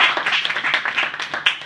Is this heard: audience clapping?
yes